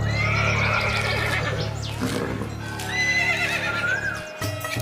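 A horse in a stable gives a loud, close whinny, then a second shorter neigh, with clip-clopping hooves and shuffling beneath, no voices.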